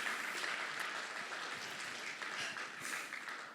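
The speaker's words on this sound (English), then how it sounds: "Please applaud her." An audience applauds a dance teacher at an arangetram, a steady wash of clapping heard at a distance and fairly soft, continuing throughout.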